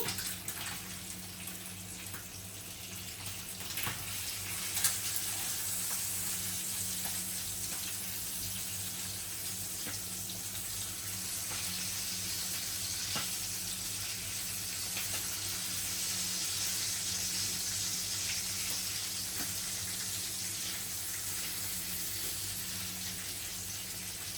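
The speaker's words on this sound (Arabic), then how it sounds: "عايزه احمر اللحمه على الناحيه التانيه، هي هقلبها بس ثواني" Meat frying in a pan and being flipped to brown the other side, heard as a steady close sizzling hiss that runs unbroken throughout with no talk.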